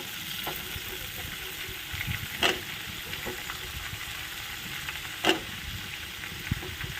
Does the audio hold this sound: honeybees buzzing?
no